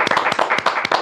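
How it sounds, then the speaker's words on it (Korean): Hands clap in a quick, uneven run of sharp, close claps at a forum event, like a small group applauding briefly. "우리 박수 한번 쳐드리고요"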